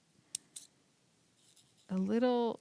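Scissors snipping a small slit in paper during a kids' craft, two brief crisp cuts early on, followed by a voice speaking.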